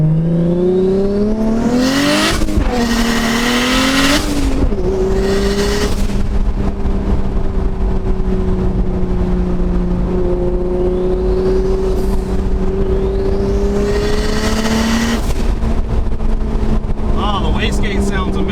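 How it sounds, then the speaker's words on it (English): Tuned street car accelerating hard, loud engine droning and rising through pulls with gear changes, whooshing wastegate bursts over a constant road and cabin rumble, someone talking over the top. "Wastegate sounds amazing. That was a good little pull there."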